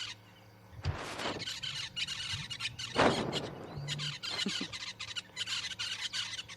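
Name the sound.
red buffalo weavers calling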